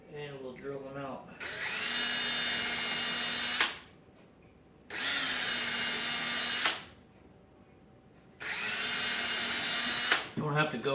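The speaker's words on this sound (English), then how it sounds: "And we'll drill them out." Power drill with a 1/16 inch bit boring holes into a wooden soap loaf mold base, three sustained whirring bursts separated by short pauses, close and loud.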